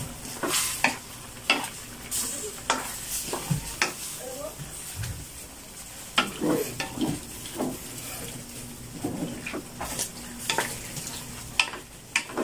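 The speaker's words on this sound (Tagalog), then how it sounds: "Lagyan na natin yung ating tomato sauce. At haluin na natin yan." A spoon stirs pork liver with tomato sauce in a pan, scraping and clanking in irregular strokes over a low sizzle, with a voice talking now and then.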